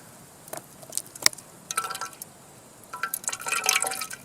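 Water squeezed from a camping filter bottle trickles and splashes into a container outdoors on a solo hike, coming in short irregular bursts of dripping and pouring, close and fairly quiet.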